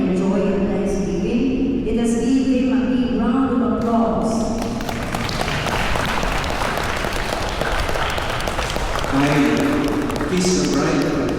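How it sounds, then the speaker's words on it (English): Guests applaud at a 50th anniversary vow renewal ceremony: a dense, steady wash of clapping from a crowd that carries on without pause, with some voices and other sounds mixed in. "Let us give them a big round of applause"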